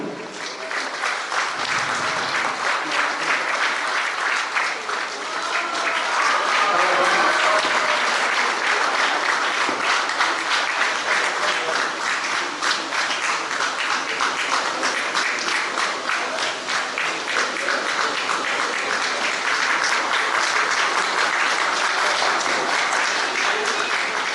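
A crowd at a reunion event claps continuously and loudly throughout while a shawl is presented, with dense, sustained applause that swells slightly midway.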